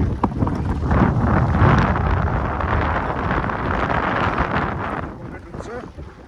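Gusty wind buffets the microphone in a broad, rushing roar that swells and eases, with faint background sounds beneath.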